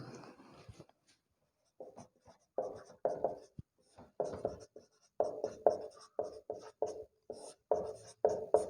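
Pen writing out a definition on paper, a series of short, close scratchy strokes in irregular bursts with brief pauses between them.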